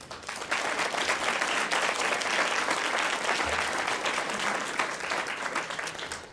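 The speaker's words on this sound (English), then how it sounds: "I would love to take a moment and ask for a round of applause for the faculty who mentor" A round of applause for faculty mentors at a university graduate school Three Minute Thesis competition, with a full crowd clapping steadily and loudly for several seconds. The applause fades slightly at the very end.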